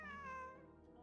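A single short cat meow from Genshin Impact, clear and close, tonal and falling in pitch, heard alone for about a second.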